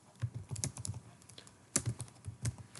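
Fingers type a search word into the indicator search box of a trading chart platform on a computer keyboard, with a quick run of close, light key taps in two short bursts separated by a brief pause.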